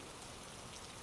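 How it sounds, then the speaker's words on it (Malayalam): Heavy rain falls in a dense, continuous hiss with no breaks, a short steady downpour heard alone without voices. "മഴ കനക്കാൻ തുടങ്ങി"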